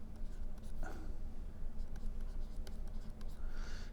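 Quantum-mechanics notation is written on a board, a continuous close scratching of strokes with small taps and pauses between marks.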